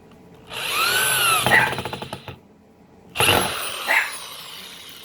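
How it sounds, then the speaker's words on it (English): A power drill drives screws into pegboard for a jewelry display, with two loud whirring bursts, the first longer and stuttering as it slows, separated by a short pause. "So now that we did the holes, we're gonna screw those screws in there."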